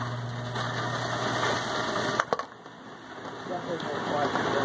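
A bingo machine's blower and ball mixer whir in a steady mechanical drone, with a brief clatter and dip midway before the hum resumes, close and fairly loud, with voices faintly audible.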